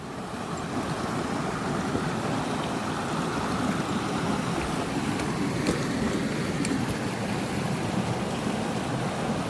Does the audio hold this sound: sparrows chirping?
no